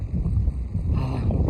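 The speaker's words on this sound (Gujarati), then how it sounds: "હા પવન છે યાર" Wind blows across a small hilltop, a low rumbling buffet against the microphone that swells and eases in gusts, with no one talking.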